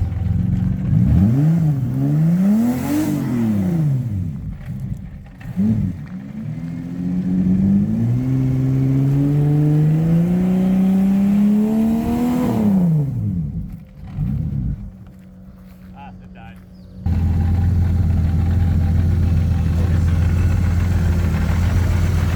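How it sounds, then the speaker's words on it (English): A turbocharged Cutlass wagon engine revs hard several times, pitch sweeping up and dropping back, then settles into a loud, steady low idle rumble. "Let's hear some real revs."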